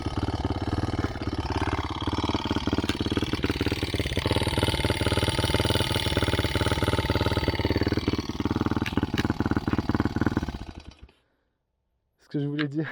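A badly worn CRZ 125 motorcycle engine idles unevenly with a steady, close, rough running note that fades out near the end before a voice starts talking.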